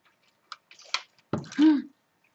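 Blue-tinted water is poured into a small handmade land and water forms model with an island in the center. A few short splashy trickles and drips sound close by in a quiet room, ending with a brief gurgle.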